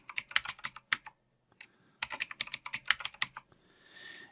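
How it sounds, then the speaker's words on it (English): Fingers tap out a password on a computer keyboard, two quick bursts of clicky keystrokes close to the microphone with a short pause between them. No one speaks. "we'll put in a password for Matthew"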